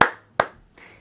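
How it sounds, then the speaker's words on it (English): Hands clap a 5/4 clave rhythm with two sharp, close claps and a softer third one, spaced unevenly, with no one speaking. "The reason why we clap this clave is because it's a sequence of actions that takes 5 beats before it repeats"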